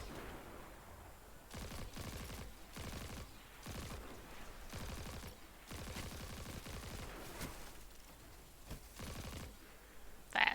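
Rapid bursts of hand cannon fire in Destiny 2, repeated shots in quick clusters with brief pauses, loud and close over an ongoing game ambience.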